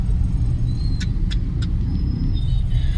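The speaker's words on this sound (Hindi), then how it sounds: "उस साइड कितना ज़्यादा ट्रैफिक लग रहा है" Heavy road traffic streaming near a Delhi flyover, a constant loud engine rumble and tyre roar with a few short horn-like tones and brief squeaks cutting through.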